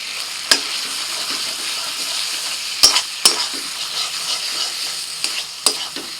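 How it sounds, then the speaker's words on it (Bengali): Small pieces of goat fat fry with turmeric and other spices while being stirred, a steady close sizzle broken by several sharp clanks of the spatula against the pan. "মশলার সাথে চর্বিটাকে ভালো করে কষিয়ে নিয়েছি"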